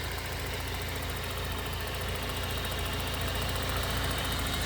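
A 1989 Ford Tempo coupe idles with a dense, unbroken engine rumble and slight knocking, heard close up and steady throughout with nobody talking.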